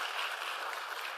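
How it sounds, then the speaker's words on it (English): Brief burst of steady, dense applause from a conference audience thanking James for building a citation watchlist tool, a continuous crackling wash of many hands clapping together. "Clap it up for James for building that"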